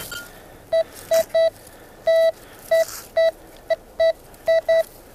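A metal detector on an iron-hunting dig sounds a series of about a dozen short, loud electronic beeps at an irregular rhythm, close and clear over faint outdoor background.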